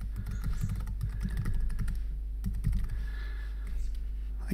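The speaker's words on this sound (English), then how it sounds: "we come back over here and we type in the domain name that we want to have." Fingers tapping out a domain name on a computer keyboard, a quick irregular run of close, crisp keystrokes over a low steady hum, with short pauses between bursts.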